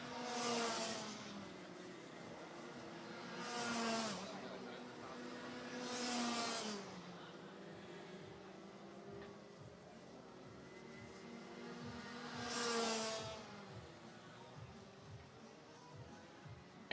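Rotax racing karts run close together down the start-finish line, slipstreaming toward turn 1, their engines whining and swelling as several pass in turn, with a steady rasping drone between the passes.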